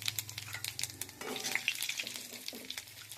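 Cumin, a dried chili and bay leaf sizzling as they hit hot oil left from frying fish, a steady close crackle with faint clinks of a utensil against the pan.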